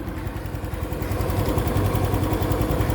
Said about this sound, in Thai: ตัวนี้จะเป็นเสียงเครื่องยนต์นะฮะ